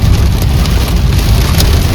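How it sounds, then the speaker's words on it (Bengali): Heavy rain pounds down with hailstones during a sudden storm on the road toward Pokhara, Nepal, a loud, dense, steady roar of drops striking hard surfaces close by, with no voices. "কি জোরে বৃষ্টি পড়ছে, আর টপ টপ করে শিলগুলো পড়ছে"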